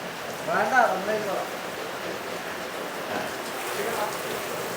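Rain patters steadily and softly, a continuous gentle hiss, with a brief voice near the start.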